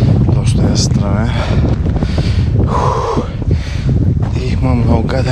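Strong gusty mountain wind on the climb to Botev Peak, Bulgaria, buffets the microphone in a loud, continuous roar, with a person talking over it.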